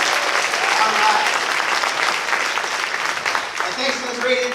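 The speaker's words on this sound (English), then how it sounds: "Big round of applause for everybody hosting this event, this amazing venue, and the people that put it together." At the Build 24 event in Dallas, Texas, an audience bursts into loud, sustained applause with scattered cheers, thinning slightly toward the end as a voice begins to speak.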